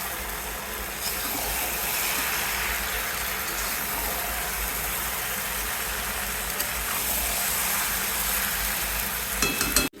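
Whole fish fry in hot oil in a pan with tomatoes as they are carefully flipped, a loud close continuous sizzle with slight scraping near the end, no talking.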